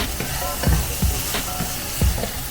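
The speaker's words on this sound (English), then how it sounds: "now that the mushrooms are sizzling" Steady frying sizzle and hiss from mushrooms in a hot pan, with a few soft scraping stirs breaking through the constant crackle.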